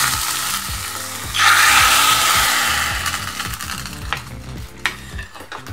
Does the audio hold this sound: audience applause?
no